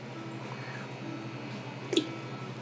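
Two lemons drop into a pot of water meant for white asparagus stock, giving one brief, close splash-plop over a steady low background hum.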